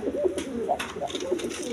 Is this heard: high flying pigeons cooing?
yes